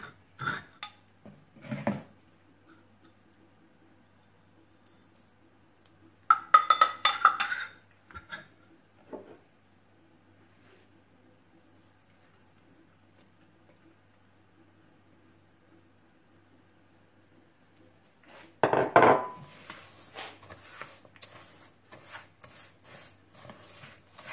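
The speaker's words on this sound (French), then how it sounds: "nous écrasons les petits beurres à l'aide d'un mortier" Petit beurre biscuits being crushed with a mortar and pestle for a cheesecake base: a few short bursts of grinding and clinking, loudest near the start, around six seconds and near the end, with quiet gaps between.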